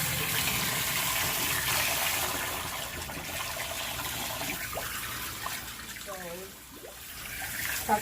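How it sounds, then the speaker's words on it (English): A bathroom water tap runs for hand washing, a continuous hissing flow heard close up, easing briefly near the end before picking up again, with faint background sounds and some speech around it. "we're gonna go in the bathroom and I'm gonna show you how I have to wash my hands"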